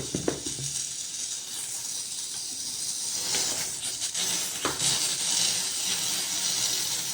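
A pressure cooker on a home stove, cooking rice and dal, vents steam in a sustained hiss with a few brief sharper bursts; no talking.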